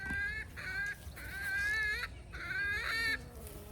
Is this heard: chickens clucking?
yes